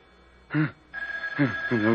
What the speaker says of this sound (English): Can't you hear the phone?